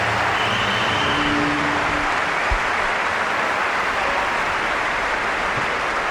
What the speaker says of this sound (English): let's just applaud Federer as the crowd are